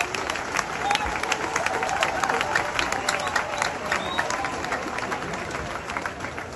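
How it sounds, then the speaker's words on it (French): A crowd at a graduation ceremony for the 36th class of Haitian National Police officers applauds warmly, a loud, dense, sustained wash of clapping with some cheering mixed in throughout. "je vous invite à applaudir chaudement nos valeureux policiers et policières de la 36e"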